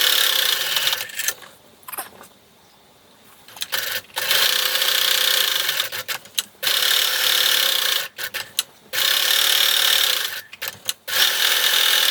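A sewing machine stitches around the edge of felt ornament pieces, a steady broadband whirring run in several bursts separated by brief pauses, close and alone with no talk.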